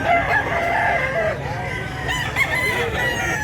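At a poultry sale in Mantalungon, Cebu, a rooster crows in drawn-out calls against a dense farmyard din of other fowl, one black Macri cock on show, with faint voices underneath.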